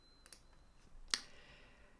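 A single sharp click of a computer mouse while using database software on an IBM i system, faint and close, with a couple of softer ticks just before it in an otherwise quiet room.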